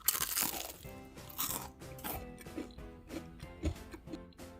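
Crispy deep-fried snack skewers crunch in a series of bites and chews, with sharp crackly bursts at an irregular rhythm over faint background music.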